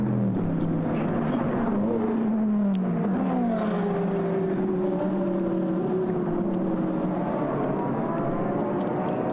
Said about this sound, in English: The final car's just going through the sequence, the chicane sequence on the back straight, on the Mistral Straight, and being led around by poleman Stefano Piz